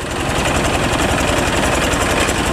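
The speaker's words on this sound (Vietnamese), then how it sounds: "cái động cơ gì bự bự quá vậy anh" A very large engine runs loudly and steadily up close, a dense continuous mechanical roar with rapid knocking pulses throughout, no voices over it.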